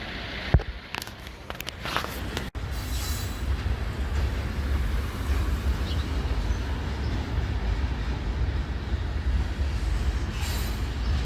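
A freight train with scrap wagons rumbles steadily past in Montreal, a continuous low roar of rolling wagons with a few sharp clanks early on, fairly close and sustained throughout.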